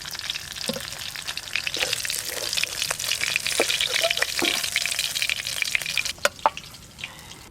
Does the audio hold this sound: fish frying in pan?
yes